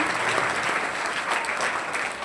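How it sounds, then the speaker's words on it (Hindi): An audience at an annual exam results ceremony breaks into loud, sustained applause, a dense wash of clapping hands throughout. "एक बार सभी जोरदार तालियों से इनका स्वागत करेंगे।"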